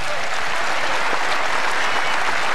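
Loud, dense applause from a crowd at the 1996 PBA National Championship bowling telecast, a sustained wash of clapping filling the whole stretch without a break.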